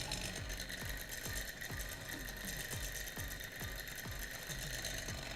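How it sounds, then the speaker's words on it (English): A small thermoacoustic engine running fast, giving a rapid, even mechanical chatter of regular ticks and thumps over a constant hum, close and steady with no voices. "So this is a thermoacoustic engine"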